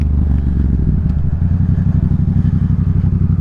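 A Yamaha MT-07 motorcycle engine idles steadily nearby, a low rapid chugging pulse with a light mechanical clatter, no voices.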